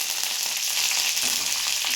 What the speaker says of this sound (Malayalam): കടുക് മൊത്തം പൊട്ടിക്കഴിഞ്ഞാൽ ആ സമയത്ത് നമുക്ക് കറിവേപ്പില കൊടുക്കാം